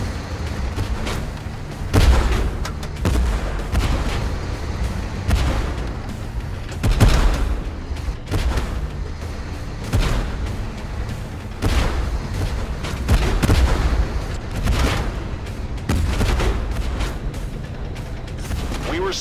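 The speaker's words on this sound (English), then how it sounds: "Under bombardment!" Artillery bombardment in the Tank Force video game, a steady loud rumble broken by repeated heavy booms and blasts at irregular intervals throughout.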